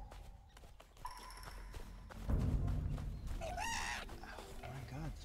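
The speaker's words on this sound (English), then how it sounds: "No, that's a chicken." Chickens in the open-world action adventure game Pine cluck and squawk amid busy background sounds, with a lone clucking call rising near the end.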